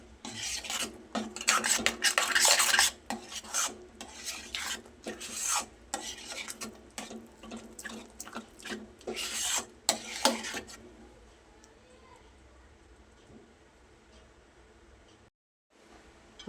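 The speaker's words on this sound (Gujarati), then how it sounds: "હવે ફરીથી એકવાર બધું સરસ મિક્સ કરી લઈએ." A spoon scrapes and stirs sorghum flour khichu with curd and fresh coriander in a pan, making repeated loud rasping strokes for about ten seconds before fading to faint, sparse scrapes.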